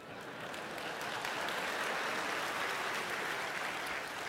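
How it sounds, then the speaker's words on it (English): A lecture audience gives soft, distant applause, a steady wash of many hands clapping that swells slightly and holds evenly throughout. "That line always gets applause."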